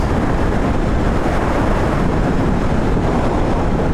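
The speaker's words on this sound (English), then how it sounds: "there is definitely some crosswind, but I'm feeling more of a headwind" Steady broadband wind roar buffets the microphone on a Royal Enfield Interceptor 650 motorcycle ride from Bangalore toward Hampi, a continuous close rushing noise from crosswind and headwind with no talking.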